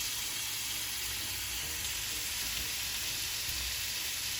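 Onions and carrots fry in a pan for a minced beef pie, making a constant, dense sizzling hiss that holds steady throughout with no talking.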